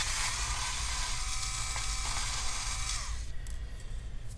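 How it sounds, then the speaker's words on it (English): A screwdriver works the motherboard screws of an HP Pavilion 16 laptop during a teardown, giving a steady close ratcheting, grinding mechanical sound with a brief squeak, then fading to quieter clicks near the end. "we have starting to remove all the screws on the motherboard"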